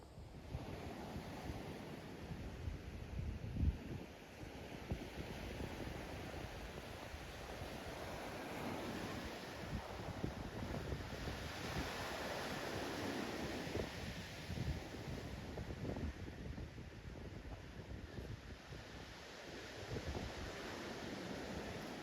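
Waves wash onto a Cornish beach at Portwrinkle under gusting wind that buffets the microphone, a continuous, rushing roar with no talking.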